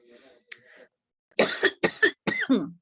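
A coughing fit in a quiet room: a few faint throat sounds, then three or four loud, harsh coughs in quick succession, close to the microphone.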